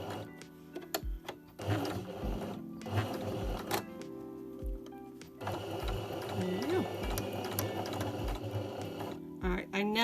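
A sewing machine back stitching ribbon for a reusable Christmas crown runs in short mechanical bursts of rapid stitching, broken by brief pauses and small clicks, close and fairly quiet.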